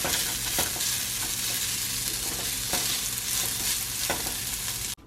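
Broccoli sizzles in a hot frying pan alongside shrimp, a loud, steady crackle with intermittent stirring knocks, ending in a sudden cut to quiet.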